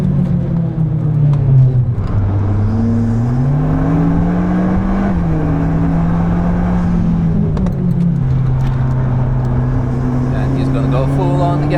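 Modified street-legal Alpine A110 accelerating, its engine drone rising and falling in pitch across gear changes, loud and close, with someone talking over it.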